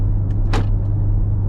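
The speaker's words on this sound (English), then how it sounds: "I have never heard door locks as loud as the door" The automatic door locks of a 2017 Jeep Grand Cherokee SRT thunk once, loud and close, inside the cabin over a steady low engine and road rumble while driving, with a couple of faint clicks around it.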